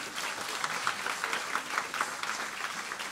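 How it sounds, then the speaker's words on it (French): An audience applauding at an intergenerational church service, a steady patter of many hands clapping, moderately loud and sustained without speech. "on peut l'applaudir"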